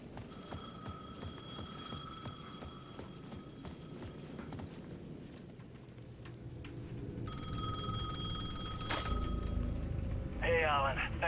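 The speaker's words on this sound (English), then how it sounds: "The payphone at the edge of the plaza was ringing again." A payphone at the edge of a plaza rings in Alan Wake 2, its repeated electronic trills sounding in bursts over dark game ambience, with footsteps and a brief rustling swell near the end.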